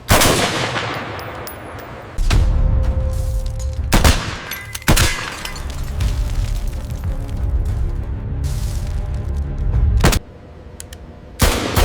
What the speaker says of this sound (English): This shot is specifically designed to test the multi-hit performance.